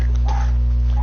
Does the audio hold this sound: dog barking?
yes